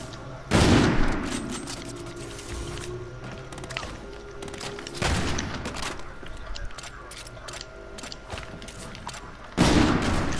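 Gunfire in Call of Duty, with sharp, loud shots at the start, middle and end separated by quieter stretches of mechanical clatter and rattling game noise.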